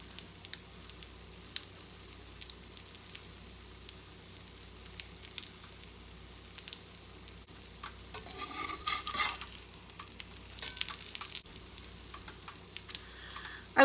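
French toast on homemade bread frying in a pan over medium to medium-high heat gives a faint, steady sizzle with light stirring and utensil scrapes, briefly louder in the middle.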